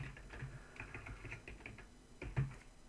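Quick, light tapping on a computer keyboard, a soft uneven run of keystrokes heard close but quietly, with one slightly heavier keypress near the end.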